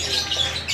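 Lovebirds of Red Factor colour mutations in an aviary give high, shrill squawking calls, loud and close, in a brief continuous burst over a steady background hum.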